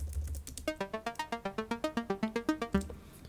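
Unprocessed Logic ES2 synth patch gives a rapid, even train of bright clicky plucked notes, about twenty in a steady pulse over a low rumble, close and fairly quiet, with no talking.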